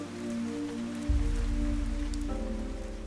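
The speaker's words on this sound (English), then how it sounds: "But even the rain soon began to weaken." Steady rain falls in the Fantasian Neo Dimension video game, a dense even patter under a low sustained musical drone that shifts partway through, no voices.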